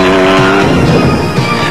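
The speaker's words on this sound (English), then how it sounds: "leaders Schilling and Thorne weren't about to let anyone even get close to the Motortech race car." Motortech off-road race car competing in the 1992 Mmabatho Sun desert race in South Africa, its engine roaring loud and close in a sustained, strained whine throughout.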